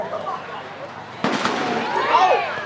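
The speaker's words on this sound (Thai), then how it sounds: "อยากเล่นระเบิดครับ อย่าตกใจ" A firecracker bursts sharply partway through, followed by crackling and scattered pops over a steady outdoor background at a seven-a-side football match.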